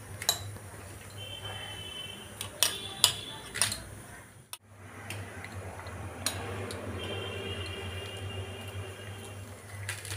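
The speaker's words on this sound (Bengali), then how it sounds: "আর একটা এই যে এটাকেও কুচিয়ে নিচ্ছি সুন্দর করে" A knife chops spring onion greens on a board, a run of quick, light tapping strikes, clustered and uneven with a brief pause midway, fairly close over a faint background hum.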